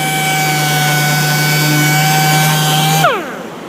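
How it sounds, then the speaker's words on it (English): Power sander running steadily on MDF while prepping for a high-gloss finish, a constant loud whine with a hum, then the motor spinning down near the end. "We're just going to sand it down nice and smooth."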